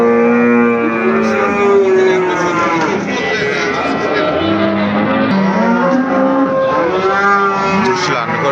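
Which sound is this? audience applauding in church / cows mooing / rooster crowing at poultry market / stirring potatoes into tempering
cows mooing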